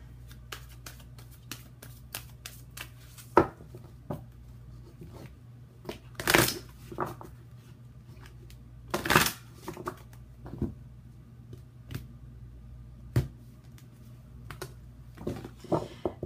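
Tarot cards being shuffled by hand, heard as a run of close, crisp riffles and soft card slaps at irregular intervals, with a few louder flurries and a faint steady hum underneath.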